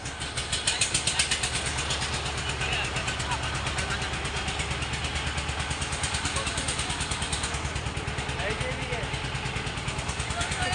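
Engine of a river trawler boat carrying people and bicycles across a river, a steady, loud, rhythmic diesel chug that runs throughout, with voices talking over it.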